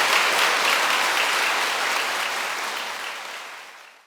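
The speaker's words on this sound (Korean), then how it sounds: "우리 신부님께 감사의 마음으로 큰 박수" Loud, dense applause from a congregation thanking a priest at the blessing of a new Catholic martyrs' shrine church, a steady close roar of many hands that slowly tapers off at the end.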